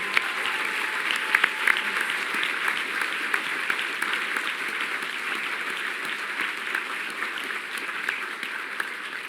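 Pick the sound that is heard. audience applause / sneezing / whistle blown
audience applause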